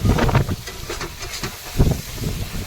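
Live fish poured into fried spice paste in a hot pan, giving close, hissing sizzles that swell in bursts alongside low thumps and splashes.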